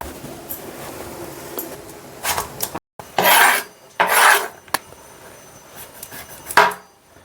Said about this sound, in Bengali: পেঁপের ছালটা ছাড়িয়ে নিচ্ছি প্রথমে।